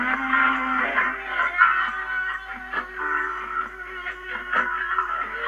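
A vintage 1970s Crown portable cassette recorder runs with playback and mechanical noise, uneven fluttering midrange sound with irregular clicks and small bursts, close and moderately quiet, without talking.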